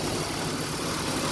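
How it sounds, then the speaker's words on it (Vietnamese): A used Korean car's three-cylinder engine idles smoothly with a steady, even rumble heard close up and without interruption. "Về phần khoang máy của nó thì máy nổ êm luôn bà con nhé."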